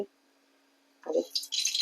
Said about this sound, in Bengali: এরপরে আমি একটু পরিমাণে জল দিয়ে দেব।